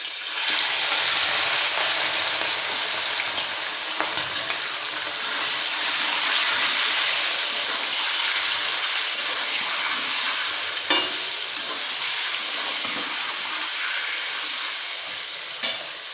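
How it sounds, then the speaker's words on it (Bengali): Marinated chicken fries in hot oil in a kadai for a wedding-style chicken curry, giving a continuous, fairly loud frying hiss with small crackles and faint clinks, no voices. "এবার আমি যে চিকেনটা মাখিয়ে রেখেছিলাম ওইটা আগে ভেজে নেব"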